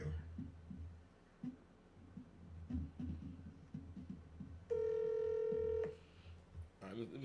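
Phone ringback during a regular call, heard as a single steady tone lasting about a second partway through, close and clear, with voices talking before and after it.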